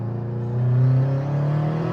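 Turbocharged 8th gen Honda Civic accelerating hard, heard from inside as a loud rising engine drone with strong low harmonics climbing in pitch over two seconds, no talking.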